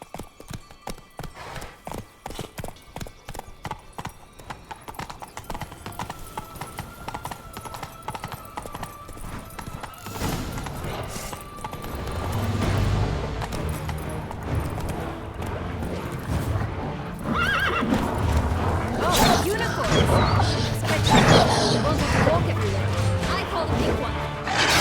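Roach, the horse in The Witcher 3, trots with rhythmic hoof clip-clops that build into a louder gallop, with neighs mixed into a dense game soundscape and some background voices.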